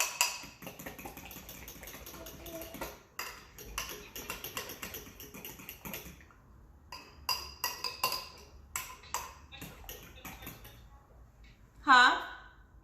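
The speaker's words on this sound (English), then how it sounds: "you just want to stir it all up with a fork" A fork clicks and scrapes in a bowl while stirring peach cobbler mixture, quick irregular taps close by with quiet pauses and a sharper clink near the end; a voice talks at moments.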